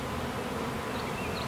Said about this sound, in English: As I shook those bees and they started to fly in the air